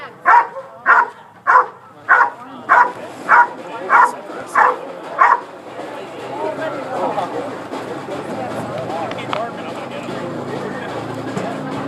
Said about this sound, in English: So this is an example of a bark and hold.